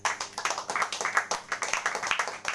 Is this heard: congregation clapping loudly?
yes